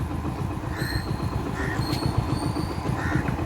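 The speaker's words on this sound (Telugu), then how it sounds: "ఇది బంద రైల్వే స్టేషను" Low rumbling train noise with rhythmic rolling, plus faint high squeals or whistles at intervals, heard from nearby at a railway station without speech.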